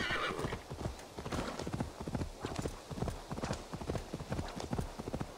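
Rapid, steady hoofbeats of a galloping horse in the video game Assassin's Creed Valhalla, close and loud, with a short whinny near the start and faint talk underneath.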